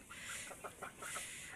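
Free-range domestic hens clucking outdoors at a home with ducks nearby, a few short close clucks in a quick uneven run over a soft steady background.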